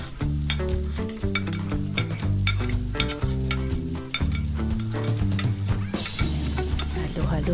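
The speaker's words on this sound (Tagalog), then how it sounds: "tapos lagay na po natin ang sibuyas." Chopped onion sautéing in a pan for a simple carbonara: a soft sizzle with occasional stirring, partly buried under louder tonal music, and the frying briefly brightens near the end.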